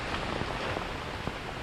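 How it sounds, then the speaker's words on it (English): Steady rain patters across a trail on an Appalachian Trail thru-hike, an even, dense hiss of drops with no talking. "So I'm sure this rain will pass long before"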